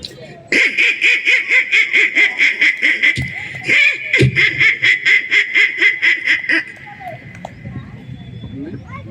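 Rapid, rhythmic nasal quacks from a stand-up comedian at a fair imitating a duck, dozens in a steady run with a short break, then trailing off into quieter background noise.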